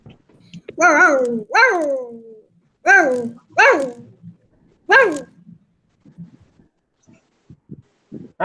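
A voice imitates a dog barking during an online class meet: five loud, voiced yelps in a row spaced about a second apart, followed by quieter scattered small sounds.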